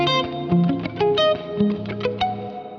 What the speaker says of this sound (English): You'll notice that the reverb happens immediately as I hit the note.